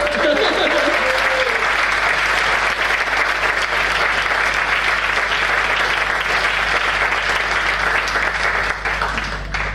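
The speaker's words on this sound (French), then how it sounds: "Et bravo à vous aussi, vous pouvez vous applaudir" A festival audience applauds steadily for the full stretch, dense and sustained clapping from a large crowd, with a brief voice rising above it at the very start.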